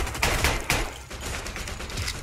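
Quick rifle shots in the World War II shooter game RAID: World War II, three close sharp cracks in rapid succession followed by fainter echoing rattle.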